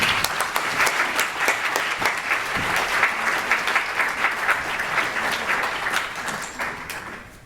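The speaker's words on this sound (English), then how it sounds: "we should give them another round of applause" Loud, sustained applause from a crowd at a dinner, dense clapping that continues steadily and then tapers off at the end.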